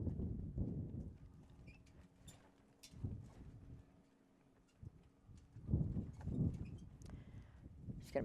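Horse hooves clip-clop on the ground at a show jumping event, irregular thuds of a moving horse with wind noise and faint voices in the background.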